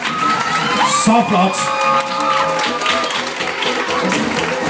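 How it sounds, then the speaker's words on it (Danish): Audience at a village festival mini playback contest applauding and cheering, a steady mass of clapping with whoops and children's shouts throughout, a presenter's voice speaking over it. "I må godt klappe lidt mere, Camilla."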